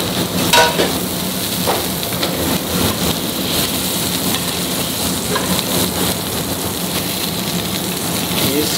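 Fresh langoustines fry in oil in a pan in a Michelin-star restaurant kitchen in Heemstede, giving a steady, close, crackling sizzle that runs on without talk.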